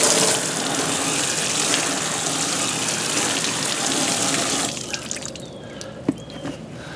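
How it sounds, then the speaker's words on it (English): A steady hiss of water spraying onto a soapy car panel during a rinse, loud and continuous for nearly five seconds, then cutting off to leave scattered drips and trickles. "Now let me go ahead and rinse that off."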